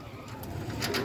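Pigeons cooing softly close by, a brief low burbling call with faint rustling.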